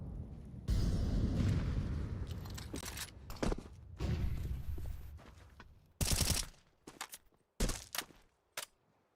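In Counter-Strike on Dust 2, loud, close rifle fire comes in rapid automatic bursts and single shots, separated by short silent gaps.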